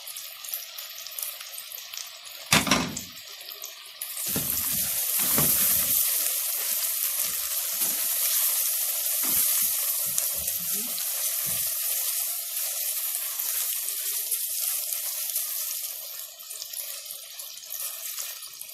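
Two large onions sauté in a pan for stuffed vegetables (mahshi), giving a steady, dense sizzle that builds after a few soft clinks and scrapes near the start and continues loudly to the end.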